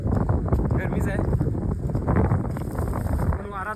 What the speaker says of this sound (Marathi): वारा चालू आहे